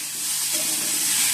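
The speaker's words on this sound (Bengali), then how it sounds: "তা চলো কুমড়ো আলু ভেজে নিচ্ছি" Pumpkin and potato pieces fry in a pan with a brief, steady hiss and sizzle, close by and moderately loud, with no speech.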